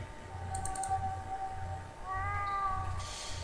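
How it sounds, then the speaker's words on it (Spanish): A cat meows from inside a wall in the video game The Last Door, two drawn-out, tonal cries with a low hum and soft clicking beneath, moderately quiet. "Parece que el gato está dentro del muro."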